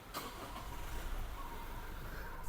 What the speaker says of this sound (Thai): เหยียบเบรกกดปุ่มพุทสต าร์ทได้เลย